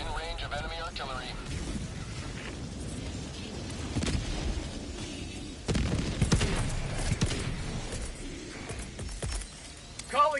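Enemy artillery shells from the video game Helldivers 2 land in a series of deep booms and blasts, some near and loud, mixed with scattered gunfire and a continuous rumble of battle.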